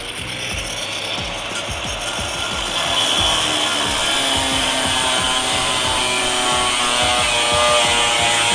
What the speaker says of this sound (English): we're gonna cut it off with a cutoff wheel along these lines